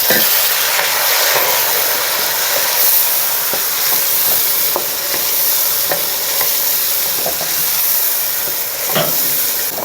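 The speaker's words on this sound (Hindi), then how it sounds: "आलू शामिल करूँगी, घी में थोड़े से फ्राई कर दूँगी।" Potatoes and tomatoes fry in ghee with a loud, continuous sizzle and hiss, broken by scattered scrapes and clinks from a spoon stirring the pan.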